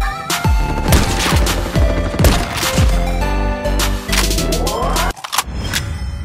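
Rapid gunfire in the COD Mobile shooter game: a string of loud, sharp shots and bursts fired close together, with a brief pause near the end before a few more shots.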